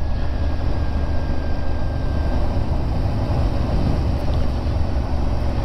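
A roughly 70-horsepower Ducati motorcycle rides a bumpy Isle of Man road, giving a steady loud engine drone mixed with wind rush for several seconds, with no talking.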